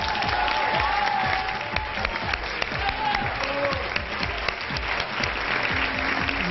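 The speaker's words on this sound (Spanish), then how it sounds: "Demos un gran aplauso a esta musa mexicana" A studio audience claps for a guest on a fashion competition show. The applause is loud, steady and close, with scattered cheers mixed in.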